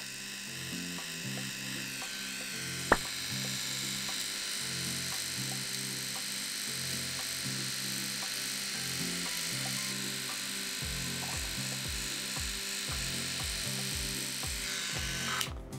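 An electric trimmer buzzes steadily while cutting thick, overgrown eyebrow hair, its motor hum pulsing in short repeated strokes up close, with one brief sharp click early on and no talk.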